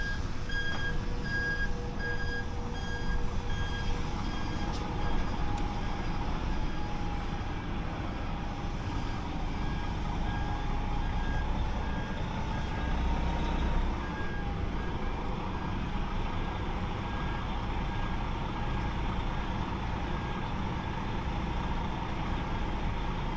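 A removal lorry pulls out of a tight spot in wintry northern Scotland, its reversing alarm beeping steadily over the continuous low diesel engine rumble, with no talk.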